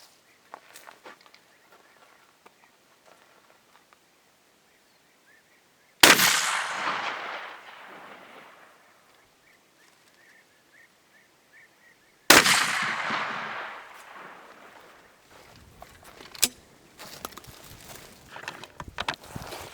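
A custom-built shotgun fires at an iron target from about 15 to 20 metres, two loud sharp blasts several seconds apart, each followed by a long decaying echo, with light footsteps and handling noise between.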